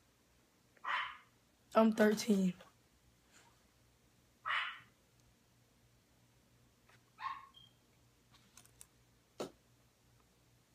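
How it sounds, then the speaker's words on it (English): A dog barks in the distance, a handful of short, separated barks spread across the stretch, with a voice speaking briefly between them. "I know the dog is far."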